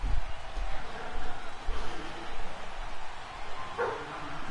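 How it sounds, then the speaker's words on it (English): A dog barks in short, repeated bursts over a continuous crowd-like background from a live PS4 football game broadcast, partly masked by the ambient noise. "No, don't bark some more, man."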